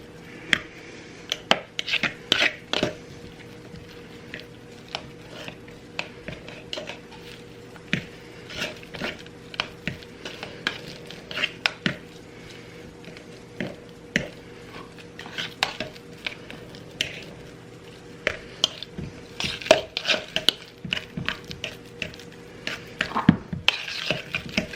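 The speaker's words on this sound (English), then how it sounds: "Mash those bananas up." Bananas are mashed in a bowl, an irregular run of wet squelching presses and sharp utensil clacks against the bowl, close and steady throughout with brief gaps between strokes, without any talking.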